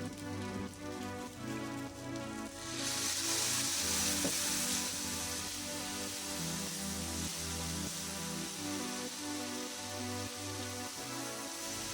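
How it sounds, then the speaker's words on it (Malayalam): Ground spice paste and water added to brinjal frying in a pan, with a sudden louder hissing sizzle that swells after a few seconds and continues steadily, close and without talk. "ഇനി നമുക്ക് അരച്ച് വെച്ചിരിക്കുന്ന അരപ്പ് ചേർത്ത് കൂടെ തന്നെ കുറച്ച് വെള്ളവും ആഡ് ചെയ്ത് കൊടുക്കാം."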